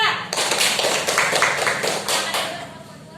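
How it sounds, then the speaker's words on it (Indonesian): A classroom group in Indonesia claps for a student team during a teacher performance assessment, a fairly even burst of many hands with rhythmic pulses, fairly close, with faint voices underneath. "tepuk tangan untuk kelompok 2."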